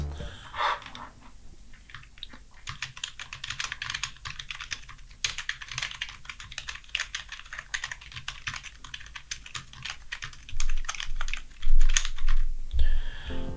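Rapid typing on an Oklick 780G Slayer membrane gaming keyboard, a dense run of soft, close key presses with a few louder thumps near the end.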